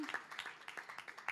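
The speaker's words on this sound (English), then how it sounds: "So big applause for the TVF team right there." Scattered clapping from a small group at a film festival press conference, quick uneven claps heard faintly at a distance over a couple of seconds.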